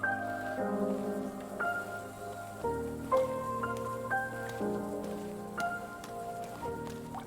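Soft rain patter and scattered drips sit quietly beneath a gentle tonal musical line in the intro of a K-pop album, at a low, even level throughout.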